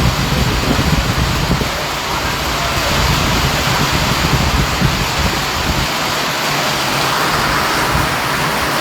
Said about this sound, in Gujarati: અહીંયા જે વરસાદ છે મિત્રો એનો અવાજ તમને આવી રહ્યો છે કદાચ પતરાનો.